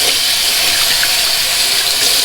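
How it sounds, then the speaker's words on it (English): Cold water runs steadily from a tap during a wet shave with a 1921 Gillette open comb razor, a loud, continuous close-up splashing hiss with no voices. "Let's get some cold water on that."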